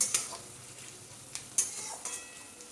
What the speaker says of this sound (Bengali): পেঁয়াজটা নাড়াচাড়া করে একটু লাল লাল করে ভাজতে হবে